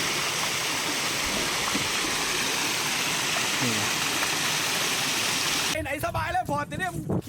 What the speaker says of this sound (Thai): เรามาถึงน้ำตกแล้วนะครับน้ำตกหินเพิงครับ